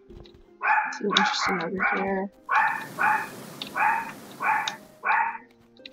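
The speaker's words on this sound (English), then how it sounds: "Sorry about the dogs." Real dogs barking in a room during Graveyard Keeper play: a run of loud, close barks and yips, some overlapping, with someone talking briefly between them.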